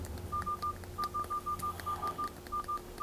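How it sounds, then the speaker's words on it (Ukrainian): DTMF keypad tones from a Servo Ultra 700 touchscreen phone, about a dozen short, even beeps in a quick steady rhythm over a faint background hum, close and clear. "Давайте ще раз спробуємо набрати новий контакт."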